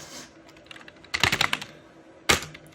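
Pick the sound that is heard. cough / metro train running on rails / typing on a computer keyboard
typing on a computer keyboard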